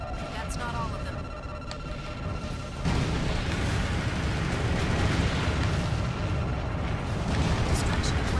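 Long-range cannons blown up in the mech combat game Armored Core 4: a dense, roaring rumble of explosions and heavy booms that swells and continues, with radio voices talking over the blasts.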